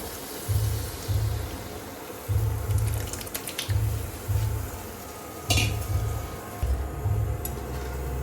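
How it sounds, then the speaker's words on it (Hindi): Dal sizzling in a hot, wobbly round kadhai, with repeated scraping stirs in a steady rhythm of short bursts and a faint metallic clink, close and fairly loud, no talking. "अब मैं इसमें डाल दूँ अपनी दाल।"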